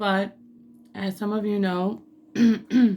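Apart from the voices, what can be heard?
throat clearing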